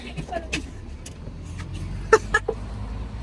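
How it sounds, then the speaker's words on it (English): An open-top rooftop tour bus rolling through Malta, a low engine rumble under a few sharp clicks and knocks, with people talking nearby. "We are being proper tourists today on the rooftop bus."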